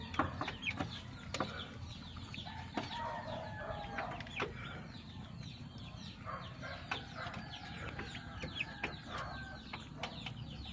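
A mother hen gives soft, scattered clucks alongside other chicken calls. The sounds are moderately close over a quiet outdoor background, with a brief flutter of wings.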